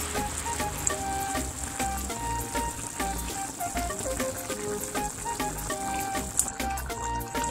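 Chicken wings fry in hot oil with a steady, crackling sizzle and scattered pops, close and continuous throughout, without any talking.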